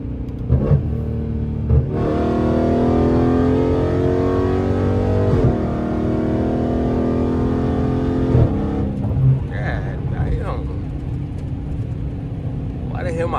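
A catless Dodge Charger Scat Pack idles and revs loudly up close, with a sustained droning rumble and a rattling license plate, and a voice comes over the engine near the end.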